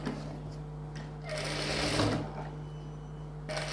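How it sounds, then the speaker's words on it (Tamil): Sewing machine stitching the lining of a boat neck blouse, a close mechanical whir that speeds up in a sustained run, pauses briefly, then starts again. "இப்போ இது டர்ன் பண்ணி அப்படியே சுத்தி நம்ம ஸ்டிட்ச் போட்டுறலாம்."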